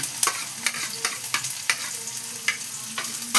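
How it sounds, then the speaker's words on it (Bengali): Bitter gourd (karela) fries in hot oil in a close, continuous sizzle, with repeated sharp clinks and scrapes of a spatula stirring the pan at a loose, uneven rhythm, no voices. "এই তেলের মধ্যে আমি উচ্ছেগুলো, উচ্ছে বলো করলা বলো, এই যে দিয়ে দিচ্ছি"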